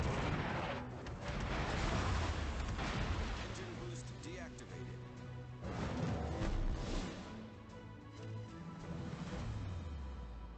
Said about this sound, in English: And I have Yamato shooting at me.